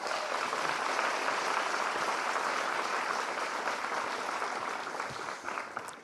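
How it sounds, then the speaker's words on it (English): Sustained applause from a morning talk audience fills the room evenly for several seconds, steady and fairly loud, then thins out near the end. "so give her a round of applause."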